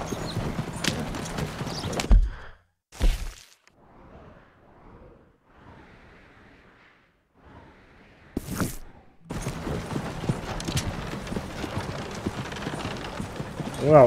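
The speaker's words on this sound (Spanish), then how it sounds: "No hay manera de que el caballo vaya más rápido." Horse hooves clip-clopping in Red Dead Redemption 2, a loud steady rhythmic trot up close that cuts out for several seconds of quieter ambience, then resumes just as loud.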